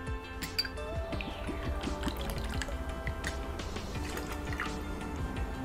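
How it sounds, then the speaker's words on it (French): A small measure of orange peel liqueur trickles into a cocktail glass, with light glassy clinks and dripping liquid close by, steady and fairly quiet throughout. "On ajoute 2 centilitres de notre liqueur d'écorce d'orange."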